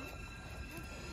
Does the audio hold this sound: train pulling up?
yes